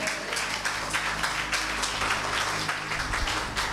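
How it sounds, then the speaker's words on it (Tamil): A church congregation claps hands together in a continuous, dense patter that holds steady and fairly loud throughout, with faint voices mixed underneath. "கைதட்டு."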